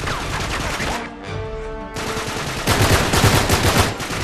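Bursts of rapid gunfire in the video game Uncharted 3, dense and loud, with a brief lull before heavier automatic shooting resumes.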